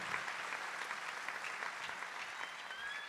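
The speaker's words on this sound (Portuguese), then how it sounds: "Vamos aplaudir o Hosana da Margarete." A church congregation at Mass applauds in a faint, distant, even wash of clapping that carries on without pause, with a thin high tone near the end.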